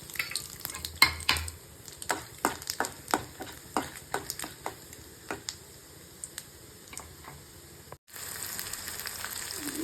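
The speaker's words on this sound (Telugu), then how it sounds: "ముందు ఉప్మా రవ్వని బాగా వేయించుకోవాలి." Upma rava semolina being roasted in a pan, with a spatula scraping and tapping the pan in irregular clicks over a faint sizzle, and no talking.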